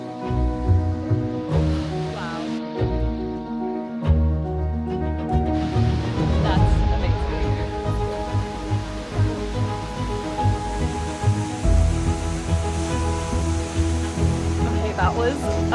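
A waterfall in a mountain area near San Cristobal de las Casas, Mexico, pours with a steady broad rush that runs throughout, while voices talk over it.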